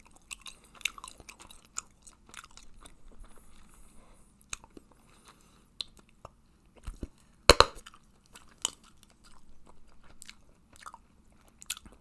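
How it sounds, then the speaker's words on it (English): Hubba Bubba strawberry watermelon bubblegum is chewed close to the mic, with soft wet smacks and small clicks spread irregularly across a quiet background, with one sharper crunch-like snap in the middle. "chewing Hubba Bubba for a while, it's always been a very like moderate average bubblegum sort of thing"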